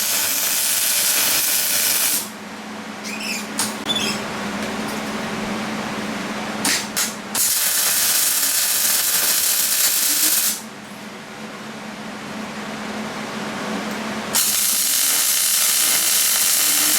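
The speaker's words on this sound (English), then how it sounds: "So we're gonna go weld this on, tubes." Welding tubes onto a trailer: loud, steady hissing crackle of the arc in long bursts, broken by short pauses, with a quieter stretch in the middle.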